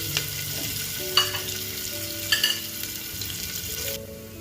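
Finely chopped onion fries in hot oil inside a pressure cooker, making a steady close sizzle with a couple of sharp clinks from a stirring spoon against the metal.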